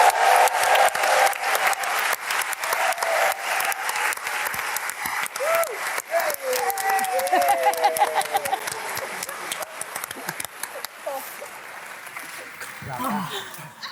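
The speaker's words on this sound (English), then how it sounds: "Can we please give a strong hand clap here for Armando Iannucci?" A live theatre audience gives sustained applause welcoming a guest on stage, broad crowd clapping that carries on throughout, with scattered cheers and a voice talking over it toward the end.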